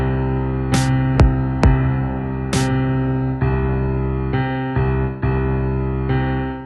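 A piano's left hand plays a simple drum-like pattern, a steady pulse of low bass notes with sharp accented hits like a kick and snare, loud and close with no voices.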